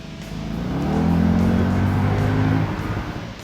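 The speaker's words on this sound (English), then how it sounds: "you can hear the roar from the engine, every pop and crackle from the exhaust when you downshift" A convertible's engine roars in a loud, close, rising drone that swells, holds for a couple of seconds, then eases off, with no voices.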